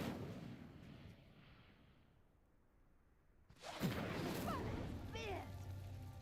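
The Incendio fire spell in Hogwarts Legacy ignites with a sudden whooshing burst of flame and roaring crackle after a quiet lull, rising loud and close over low game ambience.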